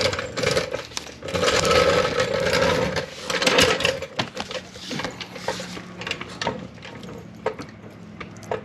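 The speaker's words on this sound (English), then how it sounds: "by jacking this up all the way till I lose the load on the jack" A car jack is raised under a Honda Civic with an H22 swap, making clustered metallic clicks and ratchet clatter in short bursts, followed by sparser taps, close by and with no voices.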